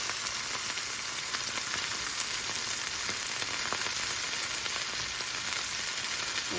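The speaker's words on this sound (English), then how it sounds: "You can hear the sizzle." Purple potatoes frying in a pan, a steady close sizzle with a bright hissing crackle and faint intermittent pops, continuing without pause.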